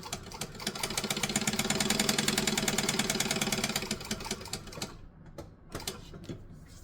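A sewing machine stitching a possum pouch runs in a steady, rapid mechanical patter for about five seconds, then stops, leaving a few scattered clicks and light handling noises.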